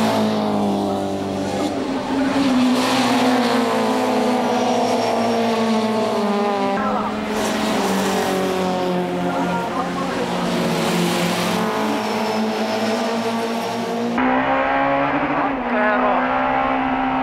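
Honda Civic touring cars race in the 1994 JTCC round at Suzuka, engines screaming loudly as they pass and rise through the gears, with tyre squeal at moments and a commentator talking over the racing.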